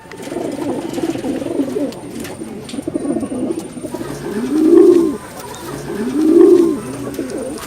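Pigeons coo in low, throaty, rolling calls, repeating steadily and close by, with a few louder swelling coos, in Urdaneta, Pangasinan, Philippines.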